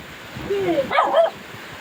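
A small dog barks and yips in short bursts outdoors, heard near and moderately loud over a light rain-like background hiss.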